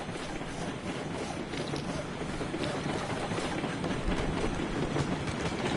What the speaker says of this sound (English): You'd think it'd be my first day driving a train.